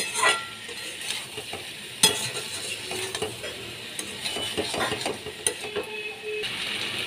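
Shrimp and gathi kochu taro being sautéed in a pan, a continuous sizzle with scraping and clacking stirring strokes, irregular and close, with no talking.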